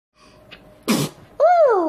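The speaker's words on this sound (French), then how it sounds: "Le petit éternuement du matin." A baby's single close, sharp morning sneeze, followed a moment later by a loud, whiny baby vocalization that rises and falls.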